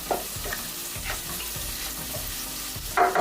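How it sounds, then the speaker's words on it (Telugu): Onions and cashews fry in a pan, sizzling steadily and close up. A spatula scrapes and stirs through them in repeated strokes, with a brighter burst of sizzle near the end. "ఆనియన్స్, కాజు ఇలా 1 మినిట్ ఫ్రై చేసుకున్నాం అండి."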